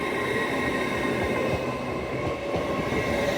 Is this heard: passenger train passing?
yes